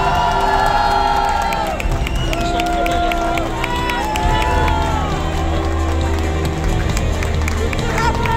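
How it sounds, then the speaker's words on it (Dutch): Crowd applause and cheering greet a bronze-medal finisher on the podium at the Belgian national cyclo-cross championships in Lokeren, a steady dense roar under an announcer's voice over the PA. "Geef hem nogmaals een welverdiend applaus, Thibaut Nes"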